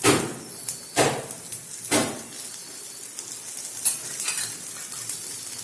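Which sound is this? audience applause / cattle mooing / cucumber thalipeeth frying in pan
cucumber thalipeeth frying in pan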